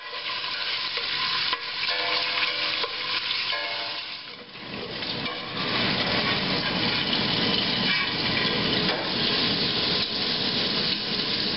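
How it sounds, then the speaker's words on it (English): Bacon fries in olive oil in a pan, a dense, continuous sizzle with stirring and scraping that grows louder and steadier after a brief dip, close up and without talk. "then we're going to fry up our bacon until crispy"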